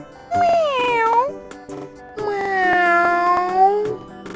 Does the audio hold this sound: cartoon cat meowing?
yes